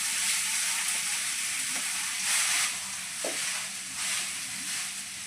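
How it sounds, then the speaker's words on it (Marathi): Leftover cooked rice reheats in a wok (kadhai), giving a steady close sizzle with rising and falling surges of crackle, alone without any talk. "आता हेच कढईमध्ये गरम करते."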